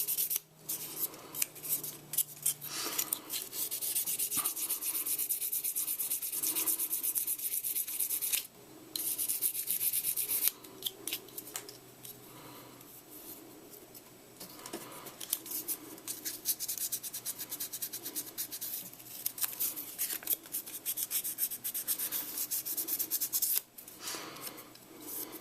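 Sandpaper rubbed by hand over a plastic video game cartridge, a steady scratchy rasping that runs almost without break, with brief pauses between strokes and no talking.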